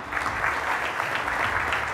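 A conference audience gives a round of applause for an award winner at a national leadership conclave, a soft, even wash of many hands clapping at some distance, steady throughout.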